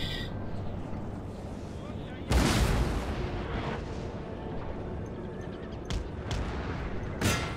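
Cannon artillery fire booms across a battlefield in the strategy video game Napoleon Total War, a sharp loud blast followed by several scattered distant shots and rumbles over a continuous low battle din.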